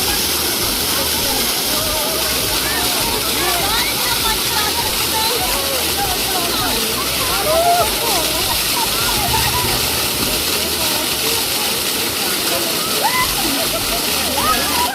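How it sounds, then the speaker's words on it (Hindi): A waterfall on a trekking route near Kedarnath pours and splashes loudly and steadily while a person bathes in it, a dense continuous rush of falling water close by. "मैंने फटाफट से कपड़े उतारे और झरने में कूद गया।"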